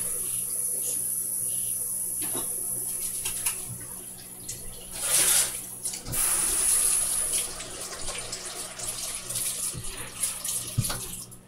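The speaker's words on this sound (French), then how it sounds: "En tout temps, je vais me laver les mains." A tap runs steadily while hands are washed, water splashing in a continuous mid-level stream with a few louder gushes partway through and a faint high insect-like chirp in the background.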